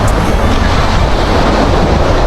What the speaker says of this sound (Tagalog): kalalaki ng alon oh